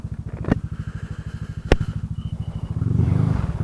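A 400i motorcycle engine idles close by with a rapid, even chugging pulse, two sharp clicks cutting in, and the throb swelling slightly louder near the end.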